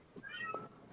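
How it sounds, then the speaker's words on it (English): A domestic cat gives a single short, clear meow, close by and alone against a quiet background. "I heard a cat go meow today"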